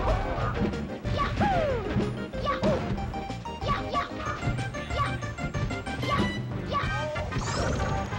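Down smash attacks in Super Smash Bros. Melee during a Samus match, heard as loud, repeated crashing hits and whooshes amid busy game effects and crowd noise, with commentators talking over them.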